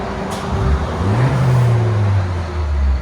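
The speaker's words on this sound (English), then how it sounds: "We took them off and straight piped it. So we'll let you guys hear it in a second." A 2022 Honda Accord Sport turbo engine with mufflers removed and straight-piped exhaust rumbles deep and loud up close, its low exhaust note rising and falling as it revs with a throaty drone.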